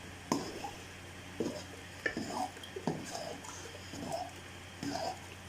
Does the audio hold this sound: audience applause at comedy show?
no